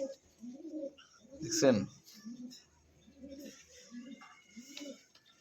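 Pigeons offered for sale coo in a steady series of soft, low, throaty pulses close by, while someone talks over them loudly in the middle of the sequence.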